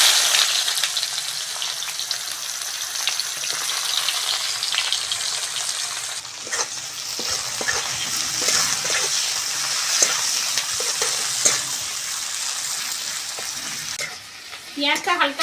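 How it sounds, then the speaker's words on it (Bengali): Onions frying lightly in oil with dried red chillies for a fish curry, a steady close sizzle with occasional scraping stir strokes running throughout. "পেঁয়াজটা হালকা ভেজে নিয়েছি।"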